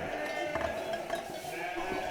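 Sheep in a sheepfold housing a flock of about 450 ewes bleat. Overlapping calls of many animals rise from a constant background of the flock, some nearer and some farther.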